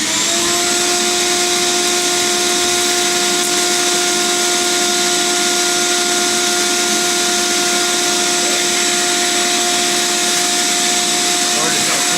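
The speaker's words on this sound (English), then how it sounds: "I'm going to take my shop vac. I'm going to suck all that stuff off the top." Shop vac sucking loose blast media off the top of a Harbor Freight blast cabinet, a loud, steady whine with strong sustained tones that runs unbroken from start to finish.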